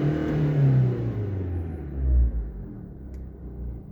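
A Renault Clio 3 1.5 dCi 75 hp diesel accelerating in second gear with a clogged particulate filter, engine rumble rising in pitch, close and loud, then settling.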